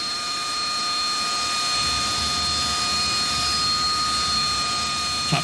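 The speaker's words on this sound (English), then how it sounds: "For the Harrier engine, this is just ticking over." A Rolls-Royce Pegasus jet engine in a Harrier idles steadily, a loud continuous whine with several high tonal lines over a rushing low roar, unchanging throughout.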